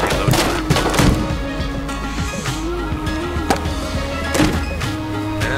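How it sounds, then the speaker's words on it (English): AK rifle gunfire in the video game Enter the Gungeon: several sharp, punchy shots in uneven bursts over a busy backdrop of game music and thuds, fairly loud and close. "And it's an AK."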